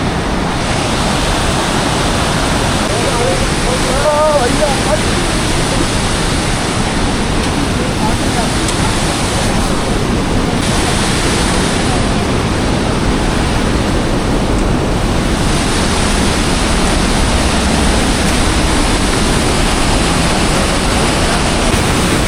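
A fast-flowing mountain river on the trek to the Valley of Flowers near Badrinath roars loud and steady throughout, a dense continuous rush of water.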